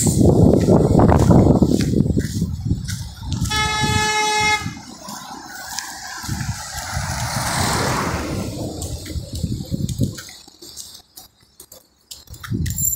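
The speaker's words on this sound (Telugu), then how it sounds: "ఓఆర్ఆర్లో కిక్కిరిసిపోయే ట్రాఫిక్." Heavy traffic on Hyderabad's Outer Ring Road near Adibatla at late morning, with a loud sustained horn blast in the middle among steady engine and road noise, then lighter passing vehicles and intermittent honks toward the end.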